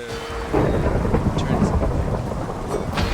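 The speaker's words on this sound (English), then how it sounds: "it starts thundering and raining like crazy." Minecraft thunderstorm triggered by a command: heavy steady rain hissing throughout with deep rolling thunder rumbles, loud and close, no talking.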